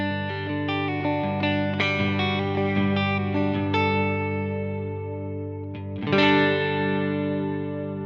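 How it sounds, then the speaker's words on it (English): Sustained electric guitar chords through a Line 6 Helix moon reverb on a worship pedalboard patch, ringing out with long ambient tails while the pick attack stays clear, then a fresh strum blooming near the end. "So that's the moon reverb"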